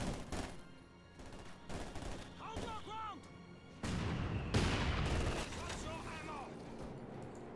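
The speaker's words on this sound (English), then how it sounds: "MG opening fire." Machine gun fire in Company of Heroes 2, crackling bursts of gunfire and distant battle booms layered with game sound effects, with a commentator talking over the action throughout.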